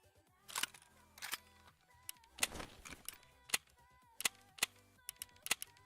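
Sharp, scattered gunshots from a video game, some single and some in quick pairs, sounding crisp and moderately loud over quiet game background with faint tonal music.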